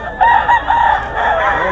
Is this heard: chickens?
yes